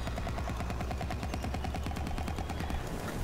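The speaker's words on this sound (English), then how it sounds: "Not let my football launcher overheat." A football launcher fires rapidly in the shooter Plants vs. Zombies: Battle for Neighborville, a fast, even stream of punchy shots with a steady rhythm, close and loud with no talk.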